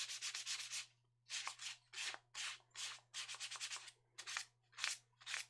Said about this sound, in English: As you can see, it's sanding really well